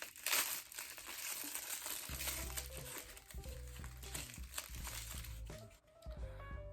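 Plastic packaging around a small pocket mirror being opened, from a contact lens unboxing, crinkling and rustling steadily up close for several seconds over a low background hum.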